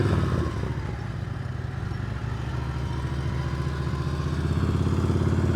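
A motorcycle engine rumbles close and loud during advanced slow-speed practice in North Carolina, held low and steady, with the throttle and clutch working and faint clattering.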